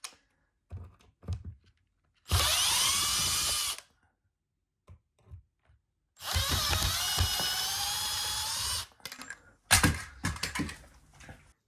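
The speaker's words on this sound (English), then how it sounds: "All you have to do is remove those two screws that are holding it." A power drill backs out the two screws holding an old smoke detector base plate, two loud sustained whirring bursts separated by a quiet pause, with a few short clicks and a final brief burst.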